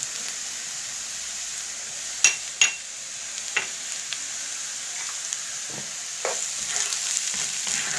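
Chopped garlic cloves go into a hot pan for a manti filling and fry with a soft, steady sizzle, broken by a few sharp clicks and scrapes of stirring.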